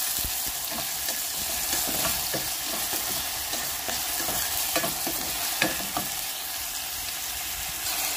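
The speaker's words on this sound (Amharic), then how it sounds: "ሽንኩርታን ማቁላላሽ ትንሽ ዘይት ለማቁላያ ያህል እጠቀማለሁኝ ማለት ነው።" Onions sautéing in a little hot oil for an Ethiopian breakfast dish, a dense continuous sizzle with soft, regular stirring scrapes close by and no talking.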